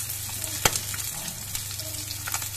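Crucian carp fries in a pan with a constant, fairly loud sizzle and crackle, broken early by one sharp pop and a few lighter spits, with no talking.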